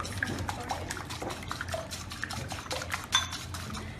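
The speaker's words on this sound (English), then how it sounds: "So whisk this through." A whisk beats Far Breton cake batter in a bowl, quick rhythmic clinking and wet tapping strokes, close and fairly quiet.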